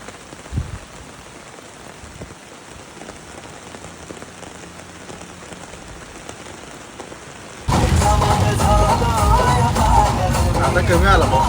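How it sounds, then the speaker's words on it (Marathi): Rain falls continuously during a drive. A quiet, muffled patter runs for several seconds, then gives way abruptly to a loud, dense downpour drumming close by. "पाऊस पण पडतोय कंटिन्युअसली"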